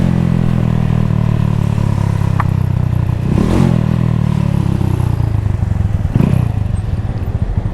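A motorcycle ridden in Jamaica drones loud and close throughout, its engine rumbling steadily with brief revs and rattling clatter as it moves.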